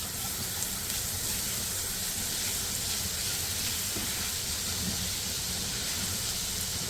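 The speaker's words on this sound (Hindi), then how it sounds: "इसको थोड़ा सा फ्राई करेंगे।" Finely chopped garlic fries in oil for a Mongolian chicken dish, giving a steady, close, even sizzle and hiss that holds throughout with no pauses and no talking.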